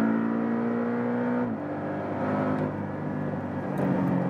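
The four-cylinder engine of a 2018 Porsche 718 GTS accelerates with a close, steady, rising drone that drops in pitch once, like a gear change, then keeps pulling under load with no talking.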